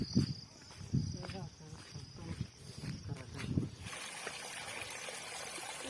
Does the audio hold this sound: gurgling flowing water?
yes